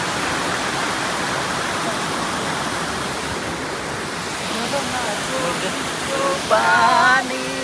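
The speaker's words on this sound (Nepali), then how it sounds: "पानी" Water rushing steadily at Cameron Highlands in Malaysia, a broad continuous roar like a stream or small waterfall close by, with voices talking briefly over it near the end.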